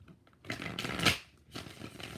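A tarot deck is shuffled up close in a few riffling bursts, with the loudest riffle in the middle and a softer one near the end, and no talking.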